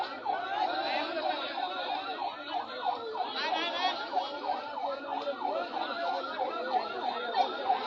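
An ambulance siren wails in fast rising and falling sweeps, moderately loud, over a busy crowd at a riverside human-chain protest, with voices and street noise mixed beneath.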